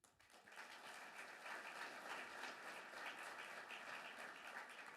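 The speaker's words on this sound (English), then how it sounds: "you're still applauding Grant Fuhr" A crowd at a hockey Hall of Fame induction and awards ceremony applauds goaltender Grant Fuhr, a dense, sustained wash of clapping that swells quickly and holds steady for several seconds, distant and even, with no talking over it.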